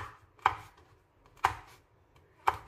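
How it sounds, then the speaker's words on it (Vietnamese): A knife chops through a chili pepper on a board, three crisp, evenly spaced cuts about a second apart, close and alone. "Mình sẽ xắt quả ớt này ra."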